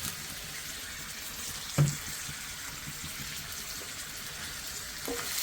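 Veldt grape sautéing in sesame oil gives a steady, soft sizzle throughout, with a brief louder clatter near the start and a faint scrape later.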